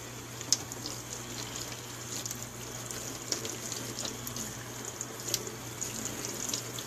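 Makeup brushes being washed in water with baby shampoo lather at a sink: water runs steadily with small splashes and squelchy swishing, close and continuous over a low background hum.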